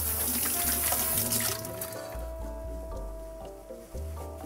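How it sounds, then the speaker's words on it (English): Tap water running into a kitchen sink while hands are washed, a steady splashing trickle that is louder at first and then softens, heard close with no talking. "just gonna wash my hands"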